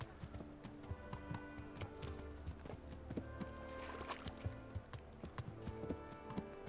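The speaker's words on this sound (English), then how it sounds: "That horse is nice and armored." Armored horse hooves clip-clop steadily in Kingdom Come: Deliverance, a continuous rhythmic patter of fairly close, moderately loud steps over a busy game soundscape with scattered ambient sounds.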